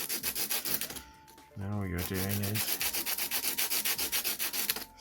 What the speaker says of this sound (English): you sand it until you get a completely flat layer there